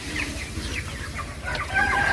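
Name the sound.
broiler chickens clucking on a poultry farm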